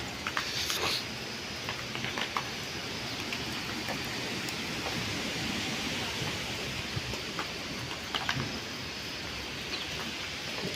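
Steady rain falls in hill country, a broad even wash of patter heard up close, with occasional brighter drips and faint background sounds, no speech.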